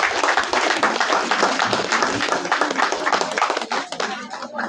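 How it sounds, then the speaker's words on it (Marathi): Guests at an engagement ceremony burst into dense, sustained applause lasting several seconds, loud and close, then tapering off at the end, with voices mixed in beneath. "सर्वांनी टाळ्या वाजवायच्या आहेत."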